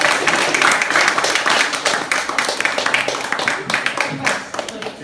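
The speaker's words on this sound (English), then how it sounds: "Unfortunately, he can't be here, but round of applause for Daniel anyway." Audience applause at a youth community award celebration, a dense stretch of clapping from a crowd that fades slightly toward the end, with voices talking underneath.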